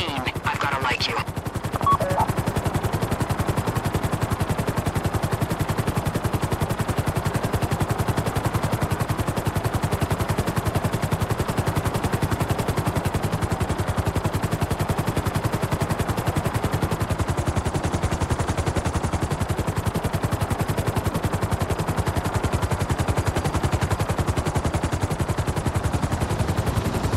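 Grand Theft Auto 5 heist combat: dense, continuous gunfire and explosions roar without pause at high volume, a sharp burst near the start before the steady barrage.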